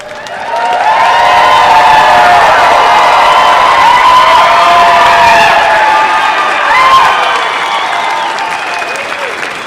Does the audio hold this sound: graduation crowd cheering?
yes